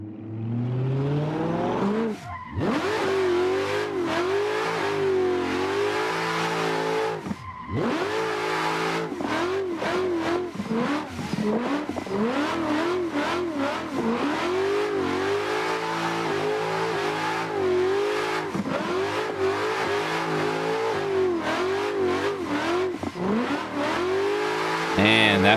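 A BMW racing-game engine in Assetto Corsa revs hard through a long drift session, a loud, continuous engine howl that rises and falls with repeated shifts and brief throttle lifts.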